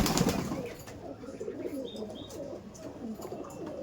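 Giribaj pigeons cooing softly with a few wing flaps, close by, steady low murmuring calls filling the short stretch.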